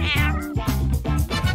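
A cat meows several times in quick succession, loud and close, with drawn-out wavering cries.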